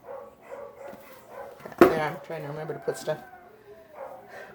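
A dog barks in a few sharp bursts near the middle, with a person talking before and after.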